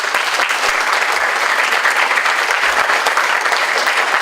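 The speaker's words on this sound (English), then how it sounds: "I would like to give a round of applause to all of you, students" Dense, steady applause from a school auditorium audience honoring middle school students after a speech contest, broad and sustained clapping with no voices over it throughout.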